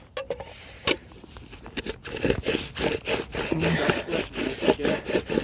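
Pineapple and banana boilies being ground into crumb by hand without a proper tool, a close rasping, scraping rhythm of repeated strokes that grows steadier and louder after a few scattered knocks.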